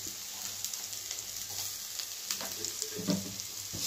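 Carrots, onions and green chillies fry quietly in a pan, a faint steady sizzle broken by occasional light spatula scrapes and taps.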